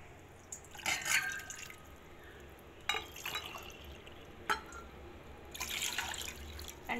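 Water poured into a glass, two glassfuls drawn as the base for a homemade mint and garlic cough remedy, with splashy bursts of filling and drips near the microphone in a quiet room.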